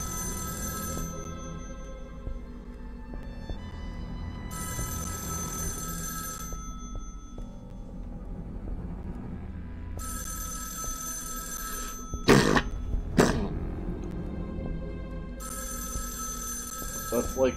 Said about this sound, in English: You can't leave a phone ringing, okay?